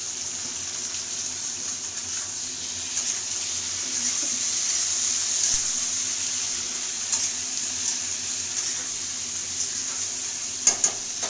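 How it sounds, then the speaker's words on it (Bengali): Fried potatoes with eggplant added sizzle in a hot pan as a steady, even hiss of frying oil, with a few sharp clinks near the end and no talking. "আলুটা ভাজা ভাজা হয়ে গেছে, আমি বেগুনটা দিয়ে দেবো।"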